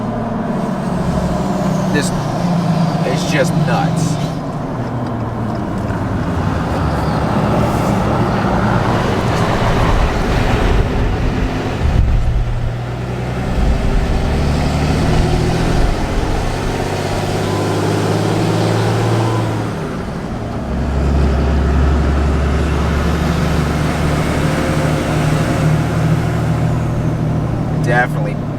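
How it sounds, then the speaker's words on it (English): Lifted six-speed Cummins diesel truck on 40-inch tires towing a huge camper, its engine droning low and loud through a long run with exhaust braking and downshift shifts in pitch, someone talking over it throughout. "This exhaust brake mixed with the trailer brake and downshifting"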